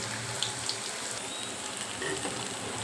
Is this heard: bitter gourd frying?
yes